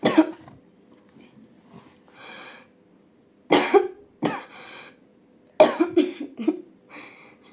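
Several harsh, separate coughs come in short bursts, close to the microphone, with quiet breathy pauses between them.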